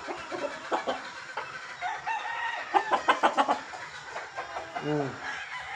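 A Boston Millionaire gamefowl rooster clucks in quick, close bursts, with a short crow-like call near the end, while someone talks nearby.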